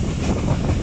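The Jaffar Express passenger train runs on rails into a station yard, a loud, steady low rumble with a continuous rolling roar and some wind buffeting, heard close with no talk.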